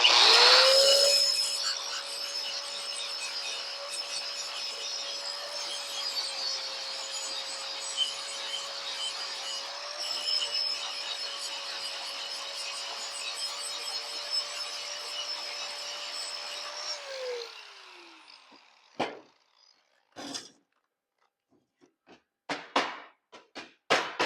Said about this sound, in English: Now I'll take the grinder, grind off these little edges, and them things should fall right out.